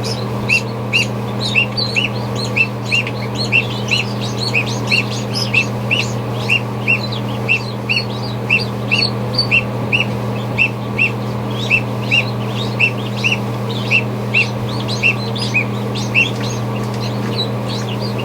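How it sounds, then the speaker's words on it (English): High, thin peeping repeats steadily throughout, many small goslings calling close by as they hatch, over a constant low hum like an incubator fan. "We got a goose coming out, and we got four geese breaking free here."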